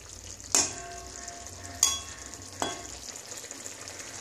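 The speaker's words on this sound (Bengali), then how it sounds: "এটাকে ভালো করে নেড়ে দিলাম।" Vegetables for an amudi fish curry sizzle in a pan, with three distinct scraping stirs of a spatula cutting through the quiet, steady frying hiss.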